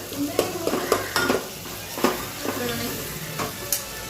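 Chickpeas hit a hot pan with water and chilli in a home kitchen, sizzling steadily under scattered clinks and stirring scrapes, close and moderately loud.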